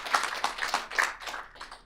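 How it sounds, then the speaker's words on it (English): An audience at a parliamentary committee session claps, with a short round of distinct, fairly soft hand claps in an uneven rhythm that trails off. "A big clap."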